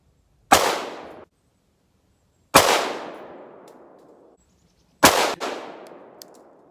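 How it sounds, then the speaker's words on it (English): Three sharp gunshots ring out at a shooting range, each a loud, close crack with a trailing echo, spaced about two seconds apart, fired at a target with a Sidelok rifle. "Here we go, 3 shots, top left target."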